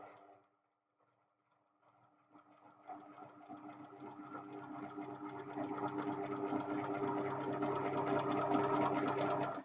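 A sewing machine stitches a line on practice fabric, starting after a short pause and building into a steady, close mechanical whirr with fine rapid needle clatter that grows louder and runs continuously, with no talking.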